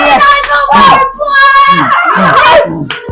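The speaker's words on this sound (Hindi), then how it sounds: "ताली पे ताली।" Hands clap in quick, sharp bursts close by, mixed with children's voices talking and calling out between and over the claps.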